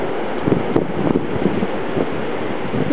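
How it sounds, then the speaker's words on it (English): Ocean waves break on a beach in the background, heard as a broad, steady wash and rumble mixed with gusts of wind buffeting the microphone. "You can probably hear the ocean in the background."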